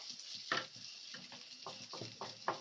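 Chicken frying on a dosa tava for a chicken pizza, with a steady hiss of sizzling oil and scraping, stirring clinks and taps from a utensil against the pan at irregular intervals.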